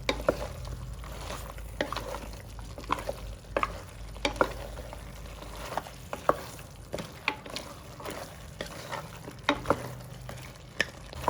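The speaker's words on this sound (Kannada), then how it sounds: "ಮಟನ್ ಚೆನ್ನಾಗಿ ಮಿಕ್ಸ್ ಆಗೋ ಥರ ಮಿಕ್ಸ್ ಮಾಡ್ಕೊಳ್ಬೇಕು" Mutton mixed with ground masala is stirred in a pan, making repeated scraping and clacking strokes against the pan over a soft, constant sizzle. The sound is close and steady, with no talking.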